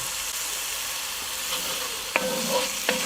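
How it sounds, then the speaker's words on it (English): Duck sizzles and browns in a Dutch oven for Trinidad-style curried duck, a constant frying hiss broken by a few sharp scraping stirs of a spoon against the pot near the end. "Give it a good stir and get that browned a little bit"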